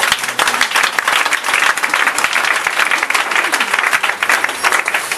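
A church congregation bursts into loud, sustained applause, many hands clapping densely and continuously at close range without a break.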